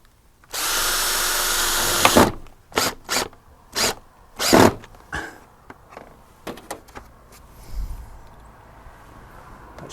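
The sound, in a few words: power drill drilling through plastic bracket into wood fascia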